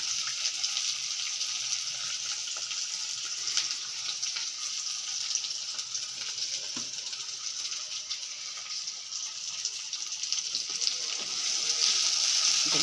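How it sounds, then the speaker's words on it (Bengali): Cumin seeds, a cinnamon stick and bay leaf frying in hot oil in a pan, a steady close crackling sizzle that holds throughout and grows slightly louder near the end, with no talking. "একটু ভাজা ভাজা করে নিই"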